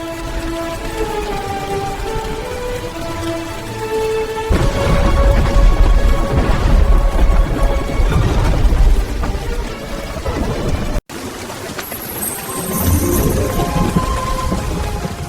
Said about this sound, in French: une tempête furieuse les accueille